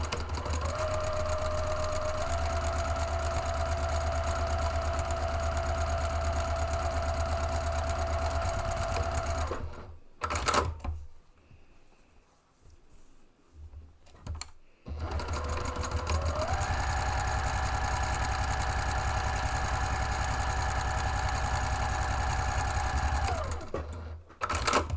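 A sewing machine stitches the left and right side seams of a City Slicker II bag: two long, steady runs of loud, even stitching, separated by a brief quiet pause.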